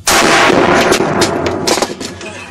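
A single loud, close gunshot with a sharp blast that rings out and decays over a couple of seconds, with no speech over it.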